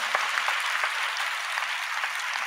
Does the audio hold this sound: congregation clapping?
yes